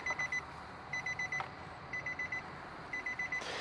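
Faint electronic beeping in repeated groups of four, evenly spaced, from a Nissan Versa's door-open warning chime, against low background hum.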